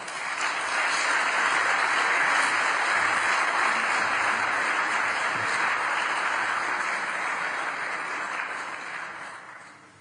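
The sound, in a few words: audience applause after a speech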